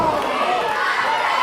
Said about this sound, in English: This crowd rallying behind Jermaine Johnson.